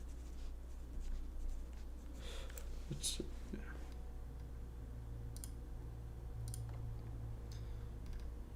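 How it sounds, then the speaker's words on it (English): Notes being written by hand with a pen on paper: faint, intermittent scratching and light ticking strokes over a quiet room hum, with soft voice sounds in the background. "I'm gonna write this one down."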